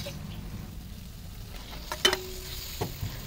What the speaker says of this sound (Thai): หอมแล้วแล้วใส่ไก่ลงไปค่ะ